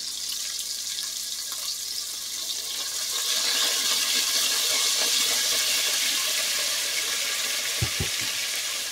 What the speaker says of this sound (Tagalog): Lagyan natin siya ng soy sauce para yung kulay ng pork ay magiging brown siya.